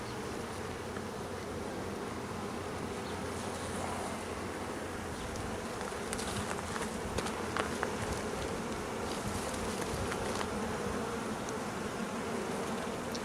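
Dense honeybee buzzing from a feral hive being rescued in Elfin Forest, a steady close swarm drone that fills the whole stretch with no voices over it.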